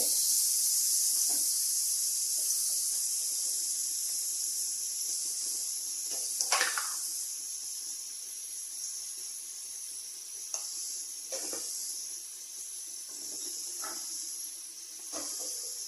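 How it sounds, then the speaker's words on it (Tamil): Salted onions sauté in a pan, giving off a steady bright sizzle throughout, with occasional soft scrapes and clinks from stirring. "வெங்காயம் வந்து நல்லா வதங்கிட்டோம்"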